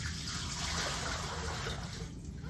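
Water pours steadily into a sink during a perineal care demonstration, a continuous close splashing rush that eases slightly near the end.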